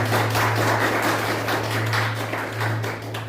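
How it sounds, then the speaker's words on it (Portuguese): A church congregation clapping for Jesus during a Portuguese-language service: a dense, steady wash of many hands applauding at once, loud and continuous, over a low sustained hum. "Diga graças a Deus, palmas para Jesus. Bem forte para ele."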